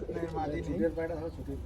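Low, throaty cooing of Giribaz pigeons rolls continuously beneath nearby talking.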